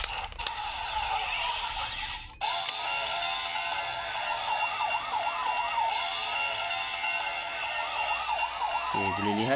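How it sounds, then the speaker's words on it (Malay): A Patranger VS Changer toy plays its electronic mecha-car summoning effect, a tinny, warbling police-style siren looping for several seconds from a small speaker, with a click early on and a brief rumble at the end. "Seterusnya ini adalah suara untuk keluarkan mecha kereta ini."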